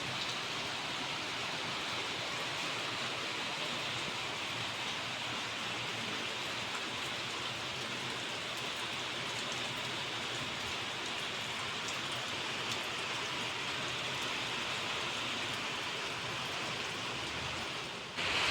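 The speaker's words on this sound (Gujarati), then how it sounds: "વરસાદ ચાલુ છે।" Steady rain pours down outside a house, a dense, even hiss of drops hitting surfaces that holds constant and fairly close throughout, with no voices.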